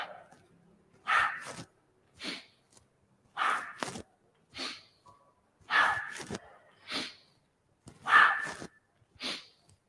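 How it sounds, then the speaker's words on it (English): Rapid energizing yoga breathing, a series of sharp, forceful nasal exhales and inhales in quick pairs with short pauses between, close and clear with no talking. "So it's an energizing breath."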